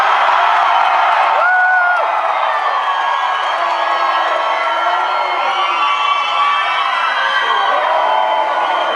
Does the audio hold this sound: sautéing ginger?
no